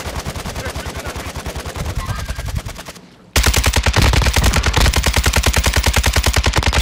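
Video game gunfire in a battle royale match, a long run of rapid, loud, evenly spaced shots that stops briefly and then resumes at the same fast rhythm, close and with no talk over it.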